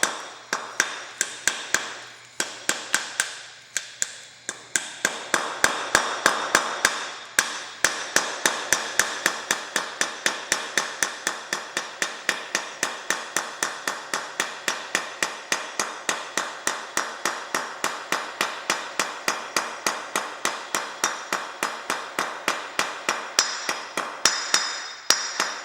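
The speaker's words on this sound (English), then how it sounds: "Take your grease seal, carefully tap it into the hub." Grease seal tapped into a trailer wheel hub with a hammer: a long run of sharp, evenly spaced metallic taps, close and loud, after a few irregular knocks at the start.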